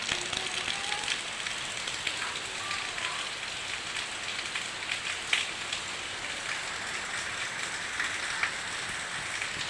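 Heavy rain pours down steadily, a dense even hiss of drops striking surfaces with occasional sharper splatters, continuous throughout with no talking.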